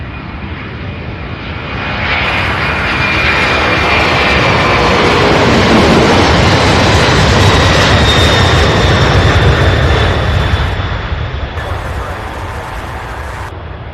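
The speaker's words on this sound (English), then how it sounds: "Is this a C-130 coming in?" A C-130 transport aircraft coming in to land at Louisville International swells into a loud, close propeller-engine roar that peaks midway and then eases off, with a voice speaking over it.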